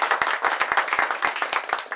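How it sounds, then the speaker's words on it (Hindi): Steady, rhythmic hand clapping from a small audience at an Urdu poetry mushaira in Dallas, Texas, with sharp individual claps repeating evenly and close throughout. "उनके लिए भरपूर तालियाँ"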